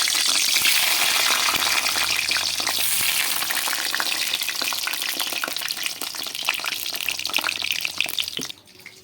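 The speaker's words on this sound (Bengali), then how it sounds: "আগে আমরা বেগুনগুলো ফ্রাই করে নেব।" Eggplant pieces fry loudly in hot oil, a dense steady sizzle with scattered crackles and a few soft utensil clicks, dropping off sharply at the very end.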